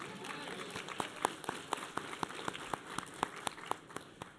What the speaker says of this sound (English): somebody applaud for that